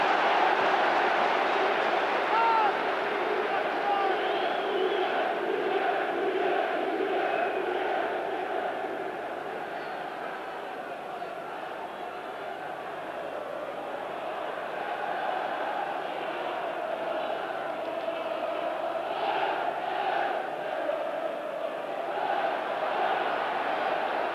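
Football crowd of about 25,000 at Highfield Road, Coventry, for a League Cup semi-final second leg against Nottingham Forest: a steady, dense roar of chanting and murmur fills the stadium, swelling at the start and end, with no clear talk above it.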